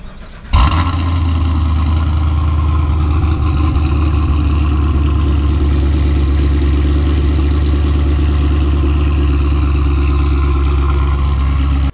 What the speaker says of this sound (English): So yeah, car's running great,